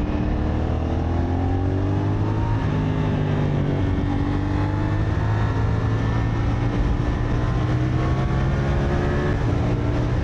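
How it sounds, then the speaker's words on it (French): A CFMOTO SR450 motorcycle with stock exhaust is ridden, its engine droning loud and close with shifting revs and pitch changes. Exhaust pops come through only faintly and no one speaks. "Oh, comme ça pétarade à l'échappement."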